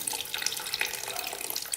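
Fluid drains out of a Kawasaki dirt bike with the cover removed, a faint, steady trickling and splashing of liquid running without pause for a couple of seconds.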